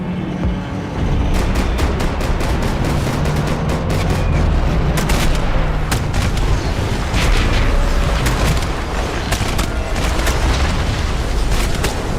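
Gunfire in the Max Payne 3 shooter game: a heavy, constant wash of booming shots and crackling bursts over a loud rumbling bed, with no clear pauses.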